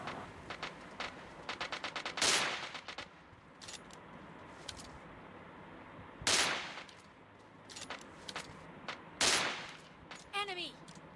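Gunfire in PUBG Mobile Lite, with rapid bursts of sharp shots and several loud single sniper-style cracks spaced apart, plus quieter clicks and a short rising electronic chirp near the end.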